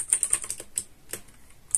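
Keystrokes on a computer keyboard as a Linux package-manager command is typed, a quick run of close, crisp clicks with uneven rhythm and no voices.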